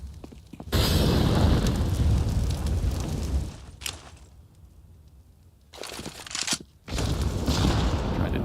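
A grenade explodes in Counter-Strike with a heavy, loud boom and a long rumbling tail, followed by a short crack and more blasts with debris; no voices.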